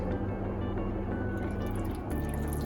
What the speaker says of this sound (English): now we're going to pour in the wet ingredient into this and whisk it